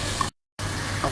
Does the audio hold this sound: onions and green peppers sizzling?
yes